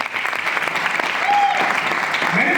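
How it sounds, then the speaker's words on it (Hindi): Loud applause from an audience at a DXN business seminar in India, dense continuous clapping that holds steady throughout, with a brief voice or whistle cutting through. "जोरदार ताली"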